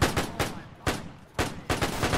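Gunfire in the video game Arma 3 with a WW1 trench warfare setting, four loud close bursts of rapid shots separated by short pauses.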